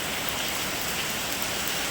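Rain pours steadily over a home garden, a dense, even hiss of drops hitting leaves and ground with no break.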